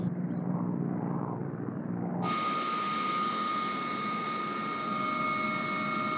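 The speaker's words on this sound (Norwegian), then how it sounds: "Det er helt vanlig å fly med helikopter her ute på Færøyene." A helicopter flying over the steep Faroe Islands, its engine and rotor roar loud and steady throughout, with the sound abruptly brightening partway through as if heard from closer or more exposed.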